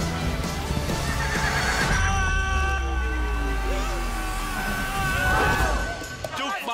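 Horse whinnying loudly and close, with hooves clip-clopping underneath, a long drawn-out neigh followed by another whinny in a movie trailer scene.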